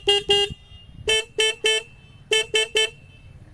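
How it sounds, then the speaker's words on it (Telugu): Horn of a 2024 Bajaj Pulsar N160 motorcycle, sounded in three bursts of short toots, two, then three, then three, loud and close with a steady tone and brief gaps between. "హార్న్ యొక్క లౌడ్నెస్ ఒకసారి మీకు వినిపిస్తాను చూడండి."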